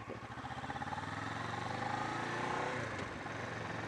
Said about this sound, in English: I got this bike 2 years ago. It was a Kawasaki Ninja 650R.